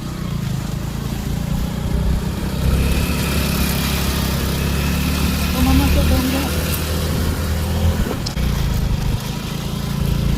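A car engine runs steadily from inside the moving vehicle, a low continuous rumble with road noise while the uncle drives through a village in Konkan; voices are faintly present beneath the drone.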